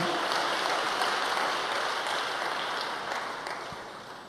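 A church congregation claps together during a sermon, a thick, even patter of many hands that stays loud at first and then gradually tapers off.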